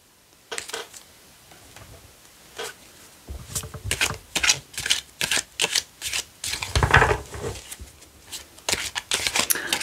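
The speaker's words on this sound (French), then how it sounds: "je vais prendre les cartes d'oracle" Oracle cards shuffled by hand in repeated riffling bursts, close and crisp, with short pauses between handfuls; no talking.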